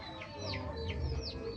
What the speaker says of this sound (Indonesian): di sini ada ayam.